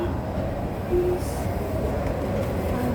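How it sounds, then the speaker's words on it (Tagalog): An MRT metro train at a station platform, heard as a steady, loud low rumble of rail traffic with no talk over it. "Habang hinihintay natin yung ating MRT."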